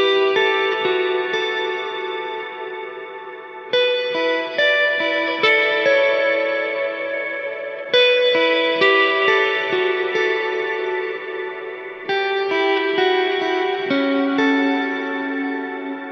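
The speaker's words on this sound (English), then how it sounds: "there's a lot of decay and reverb going on here" Electric guitar chords drenched in heavy reverb, each strum blooming and washing into a long, lingering decay that blurs into the next.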